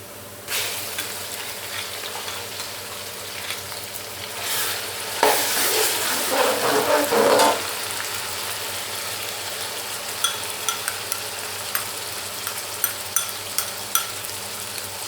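Ginger garlic paste added to browned onions in a pan for sarson ka saag, giving a soft sizzle with stirring and scraping and a louder burst of frying partway through.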